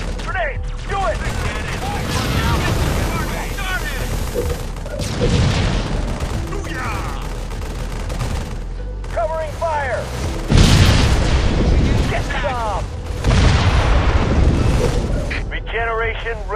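Halo Wars battle on Xbox 360 with repeated booming grenade explosions and bursts of gunfire, loud and close, overlapping with game voice lines and chatter.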